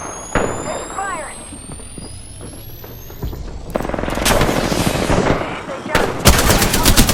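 Automatic gunfire bursts from an Apex Legends firefight, rapid rattling volleys that start and stop, then intensify into dense sustained fire near the end, with a brief voice speaking over the shooting.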